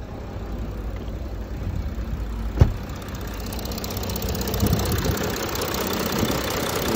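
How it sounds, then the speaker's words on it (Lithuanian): A 210 kW Audi A6 3.0 diesel with about 221,000 km runs at idle, a steady low rumble heard nearby, broken by one sharp knock early on. "Variklis dirba gerai"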